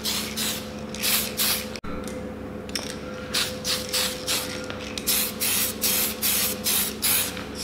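Aerosol spray paint hisses in repeated bursts onto Datsun 260Z dashboard parts inside a spray booth, loud and close, with brief pauses between passes and a steady hum underneath.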